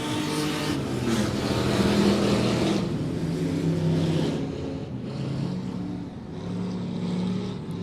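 Race car engines roar during feature races at Monett Motor Speedway, a loud continuous drone that rises and falls as the cars sweep past on the oval in a tight pack.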